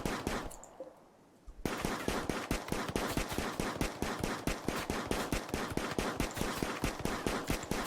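Rapid, sustained gunfire from a colonist in the Rimworld video game, loud and close, with dense repeating shots after a brief lull near the start.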